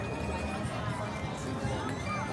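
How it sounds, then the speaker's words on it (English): Crowd gathering for the Rapunzel show at Disneyland Paris, a dense murmur of many voices and footsteps blending into a steady hubbub, with nearby chatter mixed in. "This is the crowd for Rapunzel."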